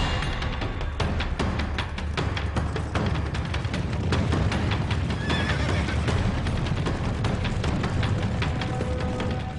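A herd of wild mustangs gallops close by, a dense rumble of drumming hooves running steadily throughout, with loud neighs and whinnies breaking out over the pounding.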